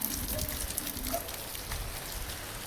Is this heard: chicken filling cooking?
no